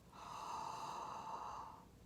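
A single deep, relaxed yawn breath with an open jaw, like a vocal warm-up for singing: one long, faint, hollow, breathy rush of air that swells and fades over about two seconds, with no talking.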